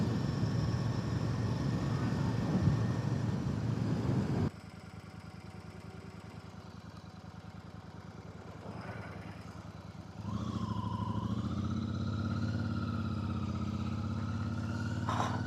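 Royal Enfield Super Meteor 650 motorcycle ridden toward the Nilgiris foothills, a steady engine drone with wind rush, dropping quieter partway then rising again with a climbing engine tone, no talk.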